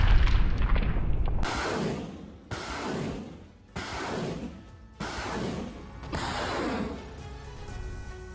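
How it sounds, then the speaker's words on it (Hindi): Russian artillery shelling hits Soledar, Ukraine, as a series of about six heavy booms that come roughly every second, each striking sharply and then rumbling away. "यूक्रेन के सोलेडार में रूस का ये हमला हुआ है"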